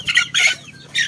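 A native stag rooster of the pure Basilan strain gives three short, close clucks and squawks in quick succession.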